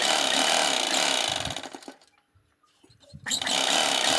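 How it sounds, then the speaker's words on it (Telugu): Motorized sewing machine stitching a folded fabric seam, a dense rapid mechanical chatter that stops for about a second and then starts again, close and steady. "నేను ఫోల్డింగ్ చేసి మరలా పైవైపు నుంచి ఒక చిన్న స్టిచ్ అయితే వేస్తున్నాను"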